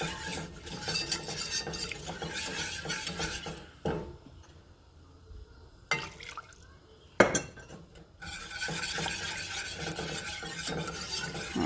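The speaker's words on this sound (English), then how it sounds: "So I'm just going to toss in a little bit and whisk it up." A cheese sauce being whisked as milk is added a little at a time in a pan over a medium flame, with steady scraping and clinking strokes that pause briefly midway before resuming, close and moderately loud with no talk.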